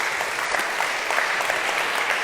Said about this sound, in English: please give a huge round of applause to Tayo